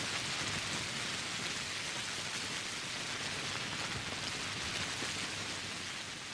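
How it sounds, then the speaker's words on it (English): Steady, dense rain in the video game Pathologic patters loudly and without a break, a constant hiss of drops on a surface. "the rain is playing loud"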